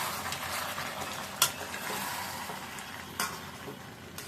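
Chicken and potatoes being stirred in a cooking pot, a steady sizzle underneath with two brief scraping clacks of the spoon against the pot.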